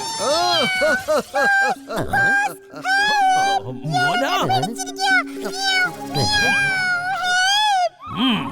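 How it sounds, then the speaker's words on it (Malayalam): A cat meows again and again in drawn-out, wavering calls, with voices talking between and over the meows. "ഞാനിപ്പോൾ ഈ പൂച്ചയെ പൊക്കിയെടുക്കും"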